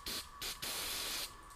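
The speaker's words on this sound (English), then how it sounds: "Grab some brake cleaner" Brake cleaner sprayed from an aerosol can during an oil change on a Firman engine, three hissing bursts in a row, short, short, then a longer one, fairly close and clear with no talk.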